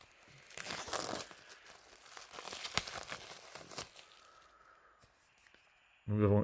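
Plastic wrap being torn and crinkled off a Terrifier 3 collector's edition, close and busy ripping and crackling for several seconds, then quieter handling before a voice begins.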